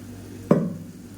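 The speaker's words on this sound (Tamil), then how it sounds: "இப்போ மிக்சி அலசிட்டு அந்த தண்ணியை சேர்த்துக்கிறேன்" Water rinsed from a mixer jar splashes into a pan of simmering chutney, making one brief, sharp splash-sizzle at close range against a quiet kitchen background.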